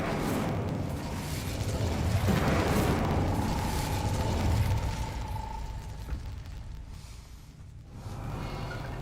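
An Incendio fire spell cast in Hogwarts Legacy produces a broad, rumbling whoosh of flame that swells over a few seconds, then fades into a low ambient background.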